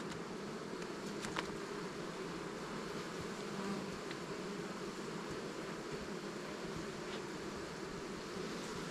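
Honeybees in a full hive in a spring apiary, a constant dense hum of many bees buzzing close by with no talking.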